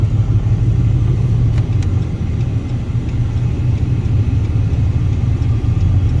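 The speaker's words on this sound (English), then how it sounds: "Idle sure sounds nice." A low, steady Hemi V8 idle from a 4th-generation Ram 1500 pickup with Pace Setter headers rumbles continuously throughout, deep and even with no speech over it.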